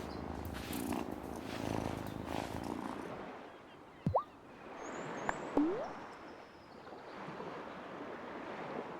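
A cat purrs in the farming and witchcraft video game Wylde Flowers, a soft steady rumble at moderate level over washing, surf-like ambient noise, broken by a couple of brief rising chirps.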